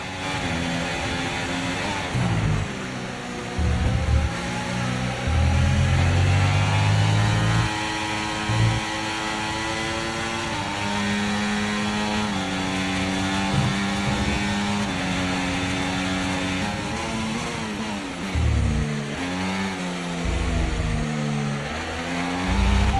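F1 racing cars screaming as they accelerate after a green flag in the video game F1 24, the engine note rising and dropping repeatedly through gear changes, loud and continuous.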